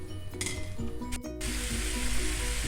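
Chicken for a chicken korma drops into a hot pan after a few metal clinks, setting off a loud, steady sizzle that carries on to the end, with faint background music.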